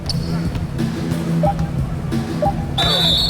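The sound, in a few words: referee whistle in basketball video game NBA 2K19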